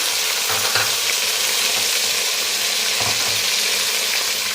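Steady sizzling of garlic paste frying in hot oil with light golden onions, loud and close, with a couple of brief stirring scrapes.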